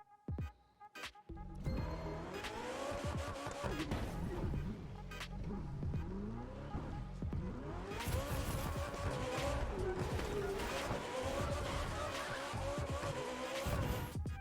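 Plymouth Roadrunner lowrider driven through San Francisco streets in a video game, its engine droning steadily throughout with tire squeal and skidding, loud and continuous after a brief quiet start.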